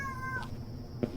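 A cat in a video game set in Kyoto gives a single short meow, quiet and close, with a faint click at the end.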